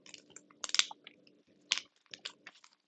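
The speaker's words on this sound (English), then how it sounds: "I hope nobody hears me chewing on shit." Someone chews on something crunchy, close to the microphone, in short bursts of crisp biting and crunching separated by brief pauses, with no talking.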